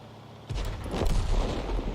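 SU-122 tank gun firing a round in a video game: a single heavy boom after a brief quiet, with a deep rumbling tail that lingers to the end.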